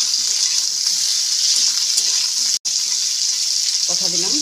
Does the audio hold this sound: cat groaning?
no